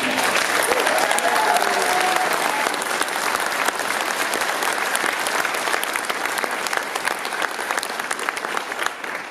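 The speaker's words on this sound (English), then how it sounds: "Round of applause for Satsuki Ina." Sustained audience applause at a Day of Remembrance event in Los Angeles, loud dense clapping filling the whole stretch at steady volume with a faint voice briefly audible beneath it.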